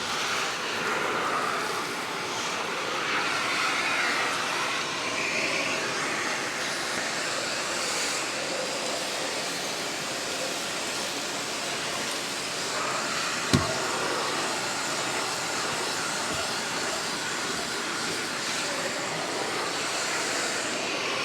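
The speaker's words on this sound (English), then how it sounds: "Let's clean that mess up with the Dyson." A Dyson vacuum cleaner sucks up a mess in a cleaning test, its steady broadband whoosh running close and continuous, with one sharp tap partway through.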